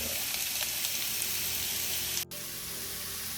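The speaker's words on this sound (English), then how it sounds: "let's start cooking the sausage, breaking it down, breaking it apart, and cooking it with the onions and the garlic" Sausage breaking apart as it fries with onions and garlic in olive oil makes a steady, close, dense sizzle that cuts out for a split second near the end before resuming.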